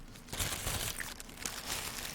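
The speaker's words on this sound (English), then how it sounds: "I got a plastic bag here" A plastic bag crinkles and rustles continuously up close, soft but busy, with scattered crisp crackles.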